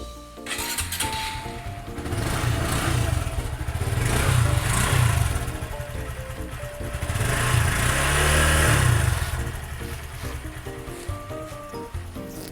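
A 2017 Honda MSX 125 SF motorcycle with its stock exhaust idles up close with a steady low rumble, rising twice into longer revs before settling back to a smooth, quiet idle.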